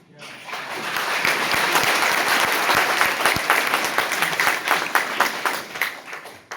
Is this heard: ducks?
no